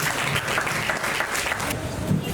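Steady, loud audience applause at a recognition ceremony held by a community centre in Koumassi, a continuous dense clapping lasting the whole short stretch.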